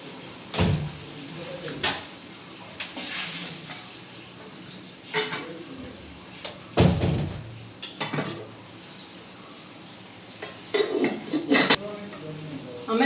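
Dishes and pots clatter in bursts as they are handled and set down, with people talking intermittently in between.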